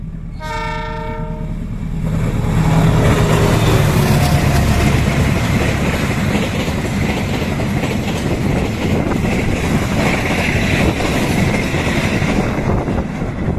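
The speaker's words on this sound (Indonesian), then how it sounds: "Ini persiapan melintas keretanya dari arah timur atau lewatnya di jalur hilir." A train horn sounds at a level crossing (JPL 191) near Cangkring station in Cirebon regency, Indonesia. It is followed by a loud, steady rumble of a train passing close by for the rest of the clip.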